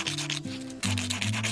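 Coarse 80 grit sandpaper rubbing against the sharp edge of a spoon ring, a steady close scratchy rasp in a few long strokes with brief shifts between them, and no talking.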